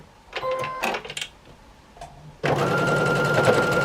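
Sewing machine stitching the seams of a jelly roll quilt, with a few short stop-start bursts of stitching followed by a steady, close, continuous run of the needle.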